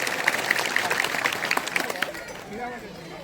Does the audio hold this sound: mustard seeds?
no